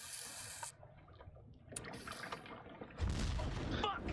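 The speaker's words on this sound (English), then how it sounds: "Explosions." Explosions in Man of Medan: a sharp blast at the start, then rumbling bursts and a heavier, louder boom near the end, with crackling debris between.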